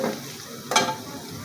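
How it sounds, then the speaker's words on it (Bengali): Chopped onion and garlic sizzle in hot oil in a pan, with a brief stir or scrape partway through. The frying is close and moderately loud for a short moment, and no voices can be heard. "পেঁয়াজ কুচি রসুন কুচি দিয়ে দিয়ে আমি একটু গরম করে নিতেছি তেলে"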